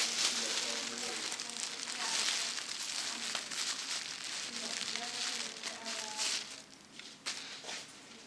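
Thin plastic foil crinkles and rustles steadily close by while wrapping freshly dyed hair at a salon, with brief soft crackles and a faint voice in the background.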